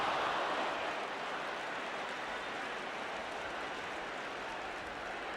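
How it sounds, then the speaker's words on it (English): A football stadium crowd at a 1973 match applauds player Osgood after his chase for a ball over the top: a dense, steady roar of clapping and cheering that fills the whole stretch, slightly louder at the start. "So there's applause for Osgood for the way he chased it on that one"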